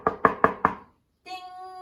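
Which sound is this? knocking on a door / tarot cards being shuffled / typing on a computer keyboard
knocking on a door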